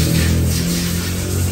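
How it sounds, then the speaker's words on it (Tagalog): A vacuum pump evacuating the air conditioning system of a gasoline Toyota Fortuner, a loud steady mechanical drone with a constant low hum and broad hiss, running without a break. "Ayan, yan lang po yung vacuum pump natin."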